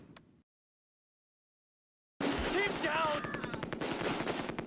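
Sustained machine gun fire with dense, rapid bursts in the Close Combat: A Bridge Too Far wargame, set in the Operation Market Garden fighting at Groesbeek, starting abruptly after a short silence and continuing loud to the end, with battlefield noise layered in.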